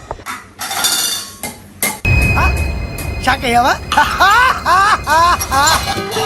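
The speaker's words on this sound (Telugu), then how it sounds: "ఆ గిన్నెలన్నీ కింద పడేస్తాడు" A child flings steel vessels and dishes onto a home floor, producing repeated bright metallic clangs and ringing clatters, loud and close, with voices talking and exclaiming around the crashes.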